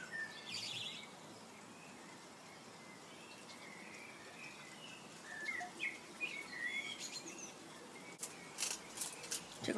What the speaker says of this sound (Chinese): 小鸟叫着，还觉着挺美的